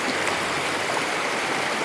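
Stream water in Brazil flows steadily and loudly close by, a dense, unbroken rush that fills the short stretch without any voices.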